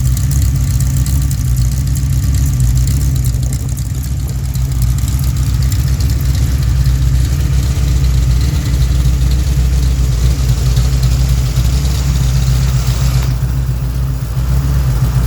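A Pontiac 428 V8 with three two-barrel carburetors idles steadily with a deep, even rumble and slight lope, close and loud throughout, with no talking.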